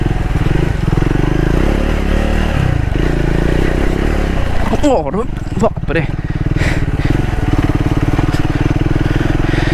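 Triumph Scrambler 400X motorcycle ridden in second gear along a dense jungle trail, a steady close engine drone with brief clattering scrapes midway as the bike jolts over rough ground, a rider's voice exclaiming over it.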